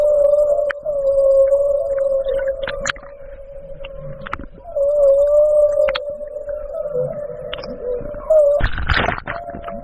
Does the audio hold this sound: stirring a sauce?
no